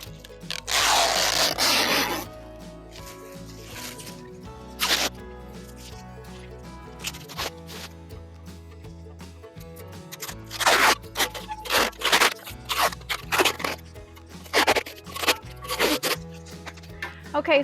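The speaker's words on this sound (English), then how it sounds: "just go ahead and remove the plastic that is on the metal bed" Plastic lining peeled off a galvanized metal raised garden bed: sharp ripping and crackling bursts, some long and some brief, separated by quieter rustling, close and alone.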